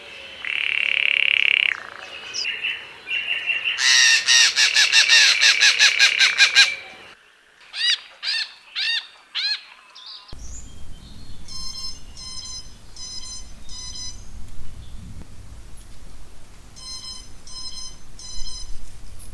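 A green jay's series of ringing, alarm-bell-like calls in short bursts, then repeated harmonic chirps, set against a busy outdoor chorus of other birds and insects.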